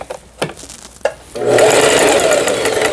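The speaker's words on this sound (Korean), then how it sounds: "다시 직선 바느질." A Singer 4423 sewing machine sews a straight stitch, its motor starting after a few short clicks and handling noises and then running in a loud, fast, steady whir close by for the rest of the moment.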